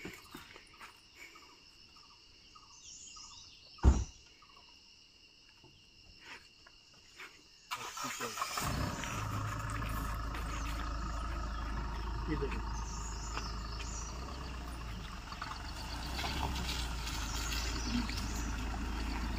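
A vehicle stuck in slick clay mud in a village: crickets chirp over quiet talk, then a heavy engine rumble starts abruptly and holds loud and steady as it strains to pull free, with voices continuing.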